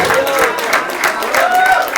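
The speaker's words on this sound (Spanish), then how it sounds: "Dele ese aplauso al Señor, hermano, por Roberto" A church congregation applauds during a Sunday service, a dense wash of clapping with voices mixed in, steady and moderately loud across the whole stretch.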